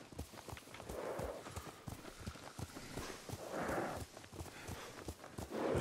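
Hooves of a horse being ridden in Ghost of Tsushima clop along in a steady walking rhythm, close and fairly quiet, with soft ambient rustle and no talk over them.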